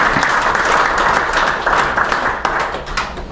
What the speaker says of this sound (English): Round of applause for our rookie.